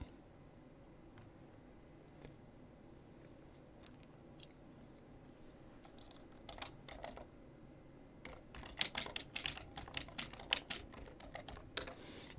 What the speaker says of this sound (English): right now I'm also typing into the chat because it might be the only way that I can get out a coherent word